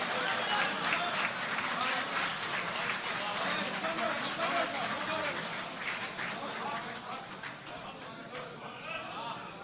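Audience applause at a mushaira poetry recital, a dense wash of clapping from a large crowd sustained throughout, easing slightly toward the end.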